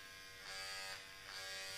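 An Agaro female body groomer trimmer is switched on and runs with a steady electric buzz. Its pitch swells slightly at intervals as it is handled, close to the microphone, with no voices.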